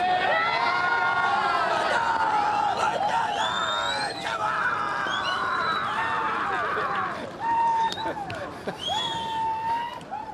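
A beach crowd at a professional surfing contest cheers and shouts in a lively mix of overlapping voices and whoops, with excited children's cries rising above the general noise at close range.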